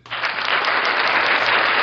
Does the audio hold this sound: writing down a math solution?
no